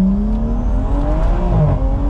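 A tuned 640 whp BMW 335i with an N55 engine and big turbo accelerates hard, its loud engine note climbing steadily in pitch, heard from inside the car with no talk.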